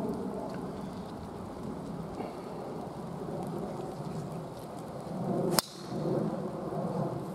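Steady rain pours down on a golf course with a constant close hiss and patter, and a single sharp crack cuts through near the end.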